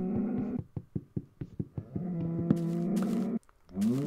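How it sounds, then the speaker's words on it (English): Cows in a video game moo in a series of rhythmic low grunts followed by two longer drawn-out moos, clear and alone with no talk. "at least the cows mean some beef"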